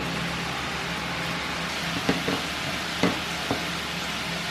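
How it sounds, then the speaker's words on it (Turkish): Grated carrots sautéing in a little oil give a steady, even sizzle close by, broken by a few light knocks of a spoon against the pan. "Havuçlarım sotelenirken"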